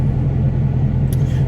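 Deep, steady exhaust rumble from a Chevrolet Camaro SS running after a muffler delete, loud and close with a constant low drone and a brief high blip near the end, no talk.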